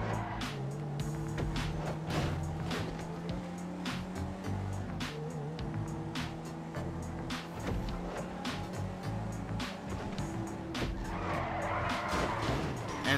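A car in GTA V slides and skids on a slick road, engine drone running under repeated short tire-squeal bursts and scrapes, loud and close throughout.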